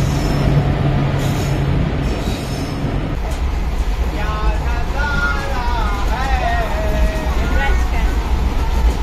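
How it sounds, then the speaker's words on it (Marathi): The Matsyagandha Express rumbles into Kudal station on the Konkan Railway with a steady low roar and faint squealing wheels, while people talk nearby. "आली आली फायनली ट्रेन आली आमची।"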